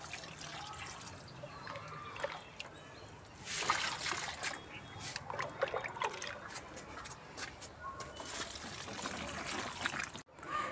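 Liquid fertilizer poured from a bucket onto the base of bean plants in a garden, a steady trickling and splashing of water onto soil that swells and fades over about ten seconds, with no voices.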